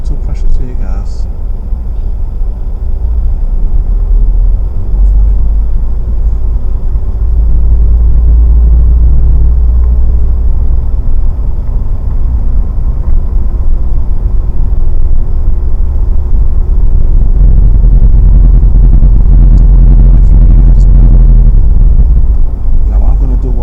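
Car engine during a first driving lesson, a loud low rumble building steadily as the car gathers speed, heard from inside the cabin with talking over it.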